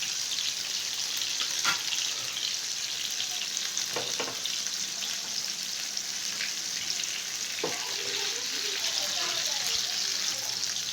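Lemon masala fish fries in a pan with a bright, steady sizzle, broken by a few sharp clinks and stirring sounds, continuous and close.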